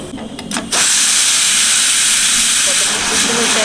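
Hot oil tempering poured over boiled chickpea dal (cholar dal) bursts into a loud, sudden hissing sizzle that holds steady and strong until the end, after a brief quieter moment.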